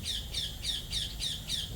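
Birds squawk in New Zealand, giving six evenly spaced, harsh, fairly loud calls in quick rhythm over a soft low background hum.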